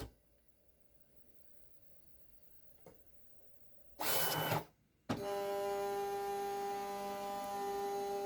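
A Silhouette Cameo 5 cutting machine works on a sticker sheet: faint background hum, a sudden loud burst of motor noise, a brief pause, then a sustained steady whirring drone close by.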